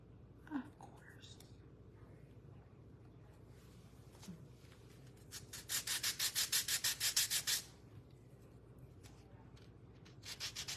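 Rhythmic scratchy hand-sanding strokes on a craft hyacinth flower piece, a quick run of short rubbing passes close by, with quiet sounds before and after.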